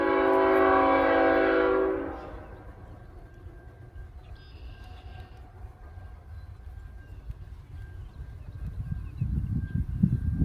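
A train sounds a loud horn for about two seconds, then its low rumble continues quietly as it passes, swelling louder again toward the end.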